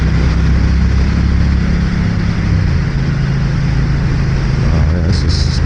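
A 2025 Triumph Bonneville T120 Elvis Presley Edition engine drones steadily while riding, a loud continuous low rumble blended with wind noise, with no talking over it.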